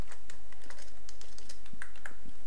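A close, loud burst of quick keyboard typing, clattering keystrokes in an uneven rhythm as a C for loop is entered, with no speech.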